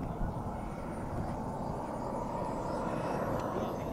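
A Boomerang turbine RC jet engine runs with a steady roaring whoosh at an RC flying field, the sound constant and fairly loud, with a faint high whine rising across it.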